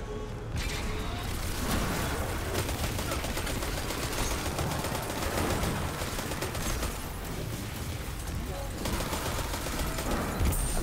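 SMG bursts in Destiny 2 rattle almost continuously in rapid, dense volleys, loud and close, with a voice talking over the gunfire.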